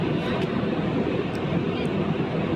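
Inside the cabin of an airliner in flight between Nagasaki and Osaka, a loud, steady broadband engine and air roar fills the whole stretch without letting up.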